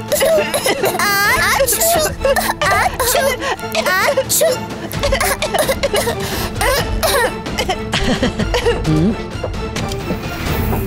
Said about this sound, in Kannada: ಇಡೀ ಕ್ಲಾಸ್ ಕೆಮ್ಮು ಮತ್ತು ಶೀನು ಶುರು ಮಾಡ್ತು